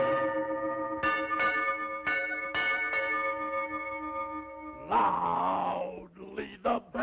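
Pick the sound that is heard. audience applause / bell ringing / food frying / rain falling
bell ringing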